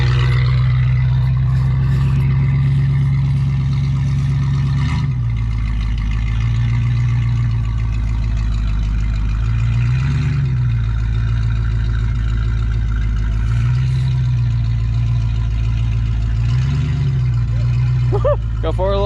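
A Dodge Ramcharger's engine drones loud and steady while driving, a low continuous rumble with periodic rises in pitch as it changes speed.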